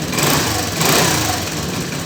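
A Chinese scooter with a Chinese-made ignition system revs from a cold start, its small engine buzzing loud and steady close by, throttle swelling briefly twice.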